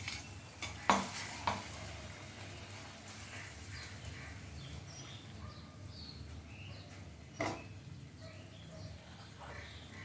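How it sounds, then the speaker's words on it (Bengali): Spice paste blended with yogurt and fresh cream sizzles softly in a kadai for doi katla, a faint steady fry with a few sharp utensil knocks near the start and again later. "এই মশলার পেস্টটা এবার আমি কড়াইতে দিয়ে দিচ্ছি।"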